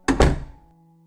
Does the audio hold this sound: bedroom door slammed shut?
yes